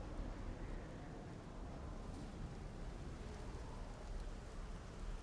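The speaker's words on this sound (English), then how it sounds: "It's raining." Rain falls at night in a soft, steady patter with a low rumbling wash underneath, constant and fairly faint.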